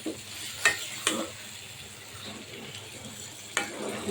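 Taro greens are turned in hot oil with a steady low sizzle and crackle. A few sharp scrapes and knocks of a spoon against the pan break through at uneven intervals, and no one speaks.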